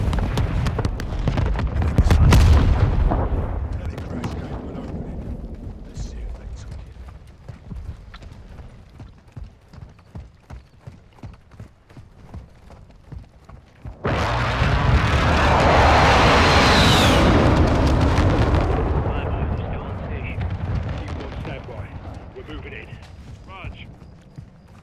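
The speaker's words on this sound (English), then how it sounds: "More explosions." Explosions and gunfire from the Modern Warfare 2 campaign mission The Hunt, with a loud blast early, scattered shots and rumble, then a long heavy burst of explosive noise midway, mixed with voices speaking.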